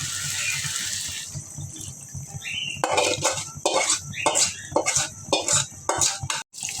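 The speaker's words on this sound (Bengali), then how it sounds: "ডালটা কষাই নিচ্ছি, এবার জল দিয়ে দেবো" Water poured into a pan of lentils being sautéed, splashing and running with metal clinks from the pan and utensils, close up.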